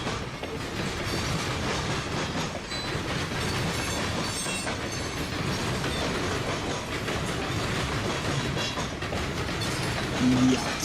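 A long Norfolk Southern freight of grain loads, 670 axles and about 9,800 feet, rolls past steadily and loud, with continuous wheel clatter and rail noise filling the whole stretch.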